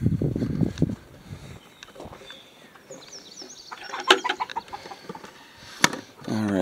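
Backyard homestead hens cluck and chatter close by in short irregular bursts, while a person speaks quietly now and then among them.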